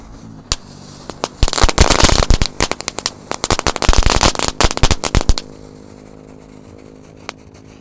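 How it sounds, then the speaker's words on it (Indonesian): A rapid burst of sharp "disco pretek" firecracker pops crackling off in dense clusters for several seconds, then a few scattered late bangs in quieter surroundings. "Ini ada mercon disco pretek, kita nyalakan."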